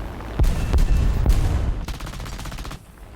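Defensive machine guns on a Ki-21-I-Hei bomber firing in War Thunder, several loud close bursts of rapid gunfire in quick succession with no talk.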